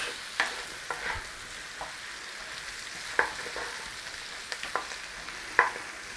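Potatoes frying in butter in a pan, with a low sizzle and a few soft stirring clinks and scrapes at irregular moments, no talk.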